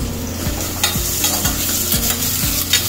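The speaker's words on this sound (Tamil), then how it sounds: "3 வெங்காயம் போட்டுருக்குறேன். போட்டு நல்லா வதக்கணும்." Sliced onions sautéing in a pan for mutton curry, a steady close sizzle with a regular rhythm of spatula strokes scraping and stirring roughly twice a second.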